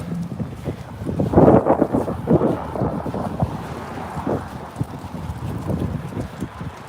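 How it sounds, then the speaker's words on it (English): Strong wind sweeps across an open outdoor spot on a cloudy day, buffeting the microphone in deep rumbling gusts that swell and ease, with one heavy surge early on and no talking. "the weather is very windy and cloudy"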